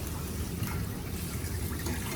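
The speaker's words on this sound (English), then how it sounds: "And with the other water to rinse them off." Tap water runs over washed blueberries being rinsed, a steady close splashing flow with a constant bright hiss and no pauses.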